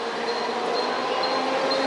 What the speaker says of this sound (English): Chalo, let's go and take the train here in Mumbai. Here it is.